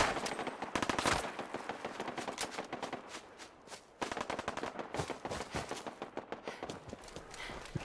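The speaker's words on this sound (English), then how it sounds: "And a machine gun." Rapid machine gun fire in the video game Fallout 4, loud dense bursts of shots running almost continuously, with a brief gap midway before the firing resumes.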